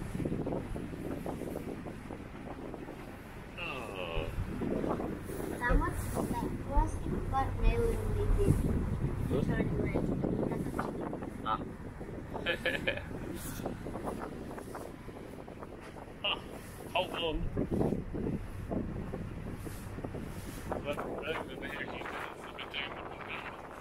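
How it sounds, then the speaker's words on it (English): Gusty wind buffets a microphone on the deck of a harbour cruise boat in Tasmania, a steady low roar with talking voices over it, and a faint hum of the boat in the background. "It's a bit windy out here."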